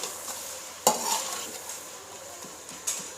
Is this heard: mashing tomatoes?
yes